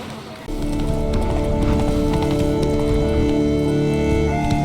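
Hoofbeats of a horse ridden at speed in The Witcher 3, a steady clip-clop rhythm running continuously under game music, with a brief voice at the start.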